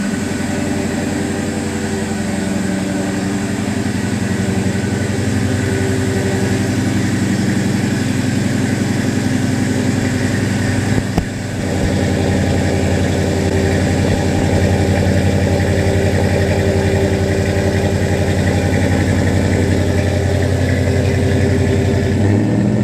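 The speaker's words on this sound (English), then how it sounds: "Start this thing up for y'all one more time" An LS1 V8 swapped into a 1970 Chevy Nova with long-tube headers, cold air intake and electric fans, idling loudly and steadily close by with a brief blip near the middle.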